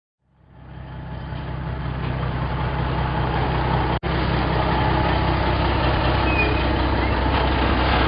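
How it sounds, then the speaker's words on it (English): A toy transporter truck's engine rumbles steadily after a quick start, holding a loud, continuous idle with one brief cutout midway. "Transporter truck."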